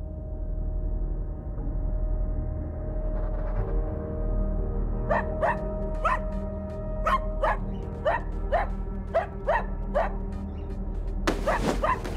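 A dog barks in a series of sharp, fairly close barks at an uneven pace over a steady low hum, and the barking grows more frequent toward the end.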